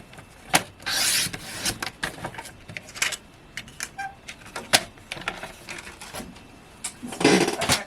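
Silver mirror card trimmed to 3/4 inch on a paper trimmer for cardmaking, with close scraping slides of the blade and a scatter of small clicks and taps, loudest near the start and end.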